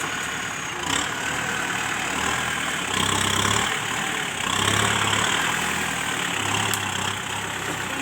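A Kubota tractor's four-cylinder turbo engine idles steadily with a continuous low rumble, close and even, rising slightly in a few brief swells.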